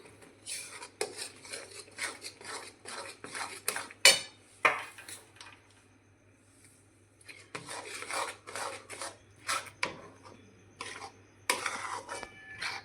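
Ground peanuts are stirred into milk in a pan, the spoon scraping and clinking against the metal in uneven bursts, close and fairly quiet, with a lull in the middle before the stirring picks up again.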